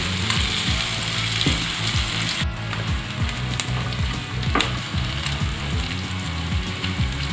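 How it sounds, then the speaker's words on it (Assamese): Chicken skin fries uncovered in a pan with a constant close sizzle, and rhythmic stirring scrapes and clicks of a utensil run throughout, with no talk. "আৰু 2 মিনিটমান সময় ভাজি ল'ম ঢাকনি নোহোৱাকৈ।"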